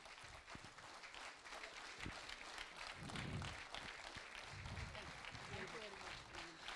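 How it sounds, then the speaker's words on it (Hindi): Audience applause at an evening event at the IAS Academy (LBSNAA) in Mussoorie, a sustained patter of many hands clapping, somewhat distant and soft, with some low thumps and faint voices mixed in. "जोरदार तालियां।"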